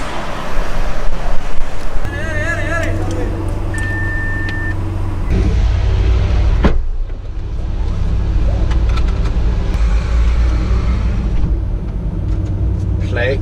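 A Lamborghini Aventador SV cruises on the road alongside a McLaren 720S, its steady low engine and road rumble continuous and close throughout, with a voice speaking over it.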